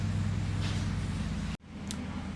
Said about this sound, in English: excuse the noise in the background, neighbors are cutting their grass